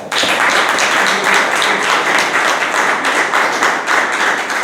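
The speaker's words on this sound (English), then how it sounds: "Round of applause for you guys." Applause at a Toastmasters club meeting: a dense, steady round of clapping from a room of people, close and continuous for several seconds.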